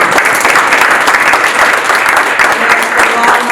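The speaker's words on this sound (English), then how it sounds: "give a round of applause to everybody, all the participants" An audience at a university innovation challenge finals event claps loudly and continuously, a dense, even patter of many hands throughout, close and without pause.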